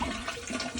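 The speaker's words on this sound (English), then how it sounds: "I'm flushing." A toilet flushes up close with a loud, continuous rush of swirling water that lasts under a second, with no voices.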